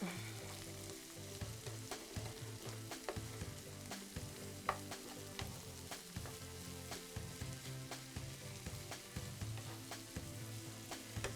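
Onions and peppers fry steadily in a pan, a dense continuous sizzle with frequent spatula scrapes and stirring clatter throughout, close and fairly loud, no voices.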